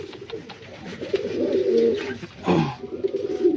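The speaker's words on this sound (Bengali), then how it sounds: "আমি পায়রাটাকে বাইরে ছেড়ে দেখাচ্ছি।" A red American fancy pigeon coos close by, giving low, throaty rolling coos in two or three swelling phrases, alone without talk.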